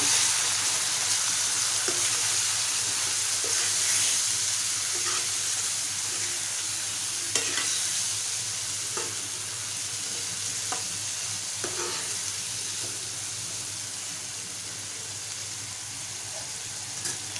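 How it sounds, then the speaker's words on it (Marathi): Brinjal frying in a pan hisses with a loud, steady sizzle as a paste of onion, coconut, garlic and ginger is stirred in, with occasional spatula scrapes and taps, close and continuous. "कांदा खोबरं लसूण आलं हे आपण थोड्याशा तेलामध्ये परतवून त्याचं वाटण तयार करून घेतलेलं आहे ते आपण घालून घेऊया मिक्स करूया"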